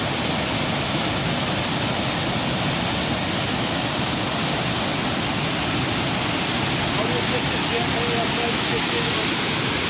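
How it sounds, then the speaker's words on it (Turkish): Canikdere waterfall in Tonya, Trabzon roars in a steady, dense, unbroken rush of falling water that is loud and close and stays constant the whole time. "Canikdere Şelalesi tüm güzelliğiyle ve görsel güzelliğiyle, dehşetiyle akışına devam ediyor."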